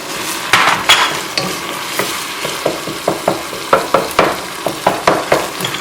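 Meat frying in a pan with cumin and other spices, steady sizzle under a run of sharp scraping stirs of a spatula against the pan, repeated quickly and close to the microphone.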